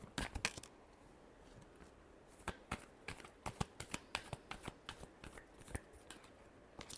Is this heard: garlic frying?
no